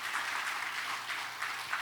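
Warm applause from a church lecture audience honoring students and teachers, a steady dense wash of clapping with slight swells, continuous throughout.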